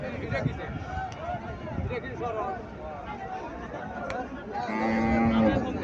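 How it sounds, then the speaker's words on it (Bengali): A local dairy cow at the Mirsannai cattle market in Cumilla gives a loud, drawn-out moo near the end, amid the babble and chatter of a busy market crowd. "এখানে একটা দেশি গাভী দেখা যাচ্ছে।"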